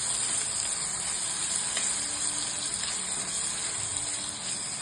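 Finely chopped large tomato sizzling in a hot pan for dhaba-style paneer bhurji, a steady, dense hiss of frying with faint watery bubbling throughout, no voices.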